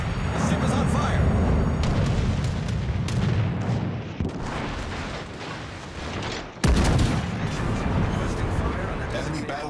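Heavy naval guns boom and shells explode in a warship battle game, a dense, continuous barrage of loud blasts with rumbling impacts and a sharp burst near the end, while a voice talks over it.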